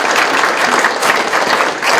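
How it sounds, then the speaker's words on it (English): An audience claps for the candidates at a school candidate forum in Spearville, sustained dense applause holding steady from start to finish with no voices. "let's please give them a round of applause"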